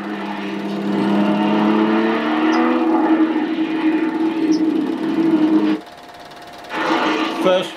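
Porsche Turbo race cars speed around a 1976 airfield race at Mainz-Finthen, their engines a sustained whining drone that rises and falls under a voice, then briefly drops away before returning.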